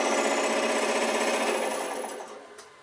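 A restored Delta/Rockwell scroll saw with a Marathon motor runs with a fast, steady buzzing reciprocating hum, then winds down and fades as it is switched off.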